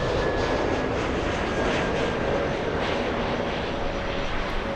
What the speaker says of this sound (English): A 737 departure.